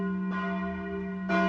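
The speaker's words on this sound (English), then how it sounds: "Hour after hour the bell rang." A castle bell rings loudly, its deep tone sustained and ringing on before a second strike swells in near the end, alone with no voices.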